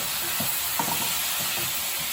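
Oyster sauce mixture being stirred in a pan while cooking baby bok choy with garlic, with a faint soft sizzle under a few light scraping strokes, steady and close.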